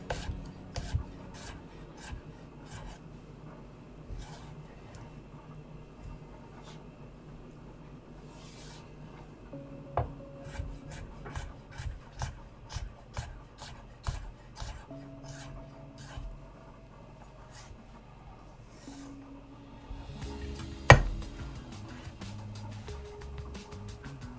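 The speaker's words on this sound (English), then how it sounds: "Then we're just slicing these with the onions." Knife slicing vegetables and onions on a cutting board, a steady run of crisp rhythmic chops and rasping cuts, close and fairly quiet, with a sharper knock near the end.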